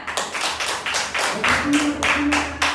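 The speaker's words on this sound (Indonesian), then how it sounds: "Tepuk tangan." A classroom group claps in unison during a question-and-answer session, about eight crisp, evenly spaced beats in a steady rhythm, with a voice faintly audible underneath.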